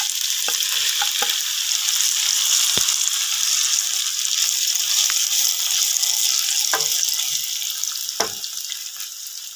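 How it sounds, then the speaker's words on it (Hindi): Okra sizzles steadily as it fries in a pan with garlic ginger paste, a constant close hiss broken by a few soft stirring knocks and clinks, with no voices. "अब हमने भिंडियों को फ्राई करना है तकरीबन 5-7 मिनट तक"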